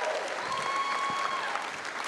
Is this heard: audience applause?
yes